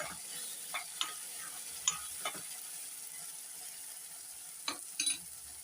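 Raw rice being sautéed and stirred in a pan while cooking a Tamil wedding-style garlic-pepper vatha kuzhambu, with scattered scraping clinks of a spoon against the pan over a quiet background sizzle.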